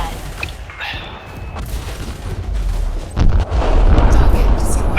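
An attacking ship in the space game Elite Dangerous opens fire, a thin crackle that swells into heavy, rumbling booms toward the end, with a voice speaking briefly.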